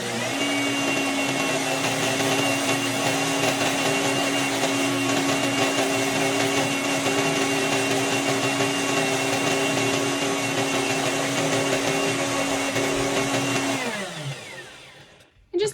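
A blender grinds grain into flour with a loud, steady motor whine and a constant gritty churn, running continuously for about fourteen seconds before it winds down and stops, followed by a brief knock.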